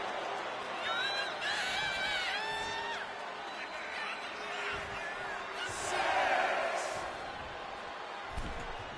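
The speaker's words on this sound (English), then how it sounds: "And Yokozuna is revving this crowd up." Wrestling arena crowd in the video game WWE 2K25, a steady roar of cheering and whooping with rising shouts and brief slams, loud throughout under a commentator's talk.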